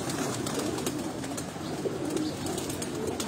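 Low, soft cooing of flying pigeons in a cage of females carries on continuously amid a busy, rustling background of many birds, with no voices.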